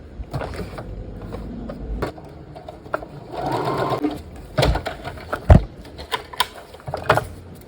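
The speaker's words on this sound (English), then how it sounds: "put them together like that, and sew it right along one corner, one long side" A sewing machine stitches two fabric pieces together along one long side, making close, mechanical whirring bursts that start and stop in short runs, with brief pauses and handling clatter between them.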